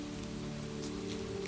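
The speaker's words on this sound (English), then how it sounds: "Rain on leaves, stream song, the occasional creak of a branch" Rain falling on forest leaves, a steady soft patter that holds evenly throughout over a low sustained tonal background.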